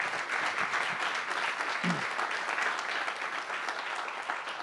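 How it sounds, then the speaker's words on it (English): At an arts event, an audience gives a steady, moderately faint round of applause that goes on throughout without pause. "So a round of applause for the Bemis team, please."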